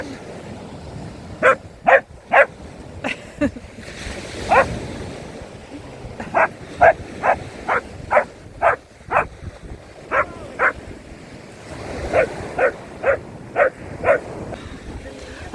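A dog barks repeatedly outdoors at Fontanka near Odesa, sharp yips and barks in irregular bursts, close and loud, with people talking in the background and occasional lapping water.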